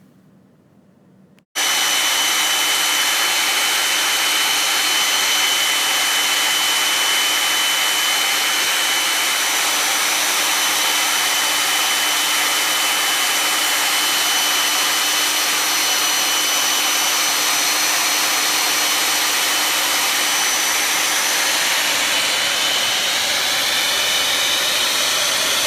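Metallic pigment is blended into designer metallic epoxy by a power mixer. After a brief quiet moment, a loud, steady whirring drone starts abruptly and runs on without a break, with no voices.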